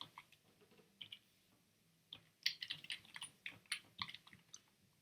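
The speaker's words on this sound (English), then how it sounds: "this is where you're going to type in your admin information" Someone types admin details on a computer keyboard, with soft, close key clicks in uneven bursts that speed up into a quick flurry and no speech.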